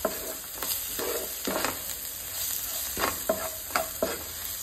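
A spoon stirs garam masala and spices into chole in a pan over a very low flame, giving soft scraping strokes in irregular bursts over a faint steady sizzle, close by with no talking.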